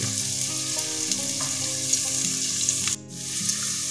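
Onion sautés in a pot until shiny and translucent, a steady loud sizzle over a faint tonal background, with a brief dip near the end.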